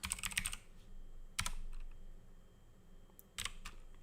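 Quick bursts of clicking keystrokes on a computer keyboard come in three short clusters separated by quieter pauses, fairly close and alone.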